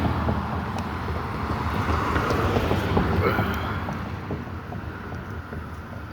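Wind blowing outdoors around a camp stove set up for lunch, a steady broadband rush with low rumbling gusts close to the microphone, holding at a constant level throughout.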